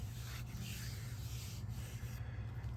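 Hand sanding a small epoxy piece smooth, a steady continuous rubbing scrape with no pauses, close and fairly quiet throughout.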